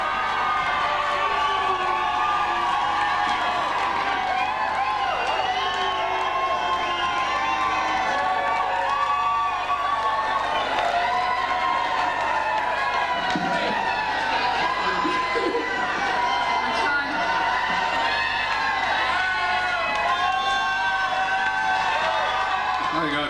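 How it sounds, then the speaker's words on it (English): A festival crowd cheering and applauding to welcome a performer, a continuous loud wash of clapping, shouts and chatter with voices layered throughout. "Round of applause, I tell you, to cheer for that."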